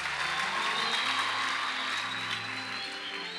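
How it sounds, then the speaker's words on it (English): Steady applause from a youth camp church congregation, a dense wash of clapping that holds at an even level throughout with no voices standing out. "let's clap hands for Jesus."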